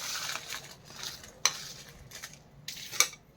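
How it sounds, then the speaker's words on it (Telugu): Dry Guntur red chillies crackle and rattle in a pan over a medium flame, with a steady scraping stir and two sharp metallic clinks of a utensil against the pan. "ఎండుమిర్చి బాగా వేపుకోవాలి"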